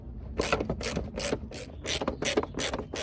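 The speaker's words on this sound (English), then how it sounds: "I got the 2 screws removed" T20 screws being backed out of the front intake section on a BMW E90, with close, crisp ratcheting clicks in short repeated bursts and brief pauses between turns; no talking.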